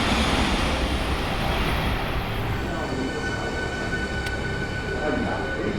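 A Shinkansen train runs along the track near Asahi Gardens in Kyoto, giving a steady, loud rumble and roar from start to finish with a faint high whine on top.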